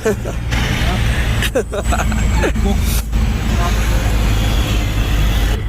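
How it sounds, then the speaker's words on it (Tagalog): Heavy road traffic on the way to Makati, heard from inside a moving vehicle: a loud, steady engine and road rumble with passing cars and buses, plus a brief air-brake hiss. "Okay, sobrang traffic na guys."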